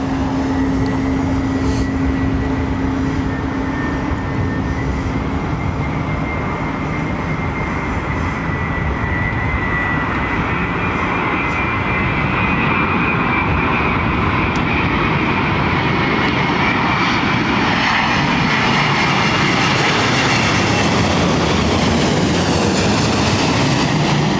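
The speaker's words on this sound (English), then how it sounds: "I put that whistling sound down to the engine cowls" Continuous loud airliner jet engine drone at London Heathrow Airport, with a high whistling tone from the engine cowls running through it, the pitch slowly rising toward the end, no voices.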